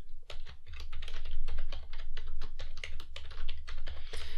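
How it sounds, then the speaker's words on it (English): Password typed on a computer keyboard while setting up an Active Directory user account: a rapid run of close, crisp key clicks with uneven rhythm, no voices. "And then I'm going to type in a password."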